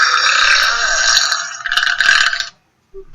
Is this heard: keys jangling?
no